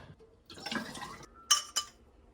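Hard cider is drawn off as a sample, giving a soft pour of liquid followed by two sharp glassy clinks, close and quiet.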